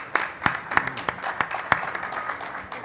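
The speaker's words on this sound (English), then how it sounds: "please, a round of applause." Sparse audience applause after a talk at a sports sponsorship conference, with a few loud individual claps standing out at a steady rhythm over a soft, thin patter of hands.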